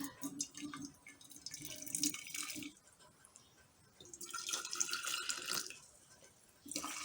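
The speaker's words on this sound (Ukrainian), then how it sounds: "Варила 7 хвилин та розливаю по баночкам." Hot homemade tomato juice is poured from a pot into glass jars, a close, gurgling liquid stream in two long pours with a short pause between them.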